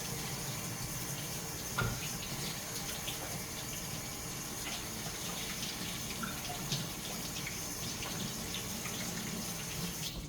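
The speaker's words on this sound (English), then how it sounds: "Let me go back over here, wash my hands." Water from a kitchen tap runs steadily, fairly quiet and close, as hands are washed under it, with small splashes and shifts in the flow.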